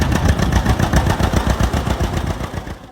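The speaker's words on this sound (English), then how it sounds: "the heart of it all was the two-cylinder hit-and-miss engine, a sound every farmer of that time will never forget. That slow, rhythmic putt-putt" A two-cylinder hit-and-miss engine on an old farm tractor, loud and close, with a fast, steady run of putting exhaust beats repeating throughout.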